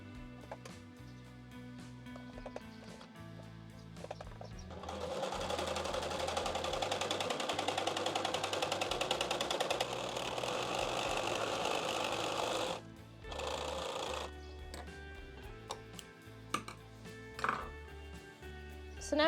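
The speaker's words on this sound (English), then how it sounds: "First, I'm going to serge the neck piece." A serger overlocks the edge of an apron neck strap, running as a steady, loud mechanical buzz for about eight seconds. Quieter handling noises and a brief second burst follow.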